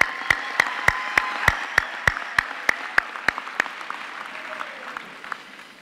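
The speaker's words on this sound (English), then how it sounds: "So I think we should give him a hand of applause." Applause at a university autumn graduation ceremony, many people clapping with a strong regular rhythm of sharp claps that gradually thins and fades toward the end.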